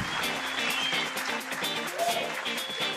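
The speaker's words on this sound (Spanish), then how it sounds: "un aplauso grande para Penchi." Studio audience applause during a comedy variety show, a dense steady wash of clapping with some music-like tonal bands underneath, moderately loud throughout.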